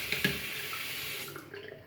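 Water from a running tap splashes steadily into a sink as a Kai five-blade razor cartridge is rinsed under it, with a couple of close knocks early on and the flow cutting off near the end.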